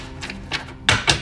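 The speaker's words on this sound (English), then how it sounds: "I'm shuffling." Thick tarot cards shuffled by hand, heard as a few soft papery riffles and slaps in a quick burst, close by, with no talk over them.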